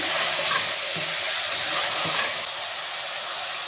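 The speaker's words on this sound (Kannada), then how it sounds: "ಇವಾಗ ಎಲ್ಲ ವೆಜಿಟೇಬಲ್ನ ಎಣ್ಣೆಯಲ್ಲಿ ಸ್ವಲ್ಪ ಮಿಕ್ಸ್ ಮಾಡ್ತಾಯಿದ್ದೀನಿ" Vegetables sizzling in hot oil for a vegetable kurma, with a steady loud frying hiss and a few soft scrapes as they are stirred in the pan, close and continuous with no talking.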